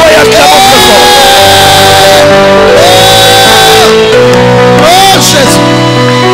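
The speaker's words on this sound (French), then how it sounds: "poussons des cris de joie et acclamons très fort" A church congregation at a prophetic revival gathering in Bukavu shouts and cheers with joy, loud overlapping voices whooping and calling out continuously at close range.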